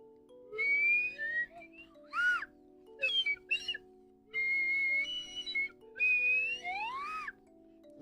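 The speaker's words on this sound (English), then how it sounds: "This is a very leaky slide whistle." A very leaky slide whistle blown in five or six separate bursts, each pitch gliding up and down with an airy, breathy edge over a low steady hum, fairly loud and close.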